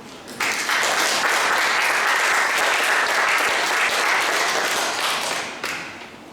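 Steady, full applause from an audience at a New Jersey Korean elders' association spiritual awakening prayer meeting, starting abruptly, holding strong for about five seconds and then tapering off, with no talking over it.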